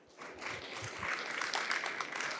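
An audience applauds Claire at a business case-study presentation, the clapping starting after a brief pause and swelling into a steady, moderately loud patter of many hands.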